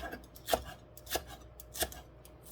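A knife slicing onion on a board while cooking Korean japchae stir-fried noodles, giving three spaced, crisp chops over a quiet background.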